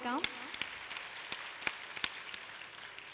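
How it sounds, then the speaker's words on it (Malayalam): Scattered hand claps from a small audience after a Sopana music performance at a cultural stage event in Palakkad, a few sharp claps spread thinly over a low background, with a brief voice at the start. "വേദിയെ സോപാന സംഗീതാർച്ചന കൊണ്ട് മുഗ്ധമാക്കിയ ഇതിന് നല്ലൊരു കൈയടി കൂടി കൊടുക്കാം"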